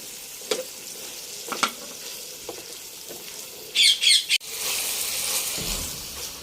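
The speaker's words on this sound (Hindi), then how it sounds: "तोते को लगता है रोज़ा लग गया, उसने शोर कर लिया है" A parrot lets out a few sharp squawks and a flurry of wing flaps in a village kitchen, set between faint clinks of stirring, then a steady sizzle of onions and capsicum frying over medium-low heat takes over.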